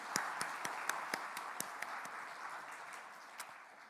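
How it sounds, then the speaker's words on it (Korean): A church congregation claps during a Sunday service, starting with a run of distinct, fairly quiet hand claps in an irregular rhythm over a steady hum, then thinning to a few scattered claps. "우리 그분들을 위해서 박수 한번 보내주시기를 바랍니다."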